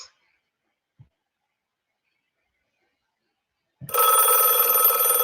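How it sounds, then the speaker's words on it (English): A telephone in the United States rings with its standard ring, one loud, sustained electronic trill that starts abruptly after a few seconds of near silence and continues to the end. "notice the way the phone rings in the United States"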